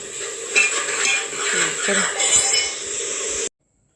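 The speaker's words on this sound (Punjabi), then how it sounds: "ਮਸਾਲਾ ਭੁੱਜ ਗਿਆ ਹੈ ਆਪਾਂ ਹੁਣ ਕਰਛੀ ਫੇਰਦੀ ਇਹਦੇ ਵਿੱਚ" A ladle stirs roasted masala in a pot, scraping and clinking against the metal in short, busy strokes over a light sizzle, with a voice talking nearby; the sound cuts off abruptly near the end.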